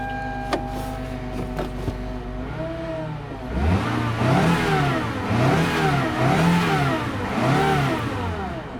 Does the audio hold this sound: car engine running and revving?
yes